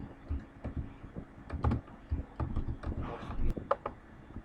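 A computer keyboard is typed on at a steady pace, with a run of light, close clicking keystrokes and faint background hum.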